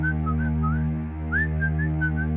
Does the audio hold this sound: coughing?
no